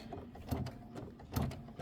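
A home embroidery machine stitches a bottle cap placement line on a Kimberbell Halloween project, giving a soft, quiet mechanical whir with two louder rhythmic clunks about a second apart.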